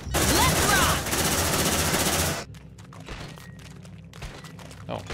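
Gunfire in Aliens: Dark Descent, a loud sustained rattling burst of automatic fire for about two seconds, then fading to quieter scattered combat sounds.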